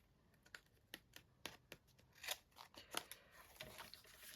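Scissors snip through paper for a mixed media kit in a quick series of close, crisp cuts with short pauses between them.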